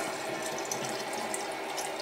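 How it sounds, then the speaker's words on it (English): Cold tap water pours steadily from a faucet into a shisha pipe to rinse it, a loud, continuous close splashing rush with no talking. "I'm going to use some cold water to give this a rinse on the inside"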